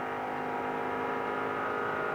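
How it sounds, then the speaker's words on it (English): BMW-engined sports prototype at the 2003 Grand-Am Rolex Sports Car Series race, heard from onboard as a loud, sustained high engine drone holding steady power down the backstretch, alone without voices. "That BMW motor's got some real power down the backstretch."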